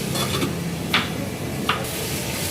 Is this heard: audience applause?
no